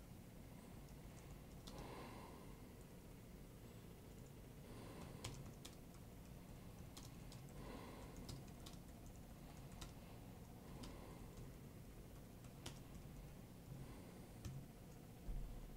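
Quiet typing on a computer keyboard while writing in OmmWriter, a minimalist writing app, with soft scattered key taps at an irregular rhythm over a faint steady background hum.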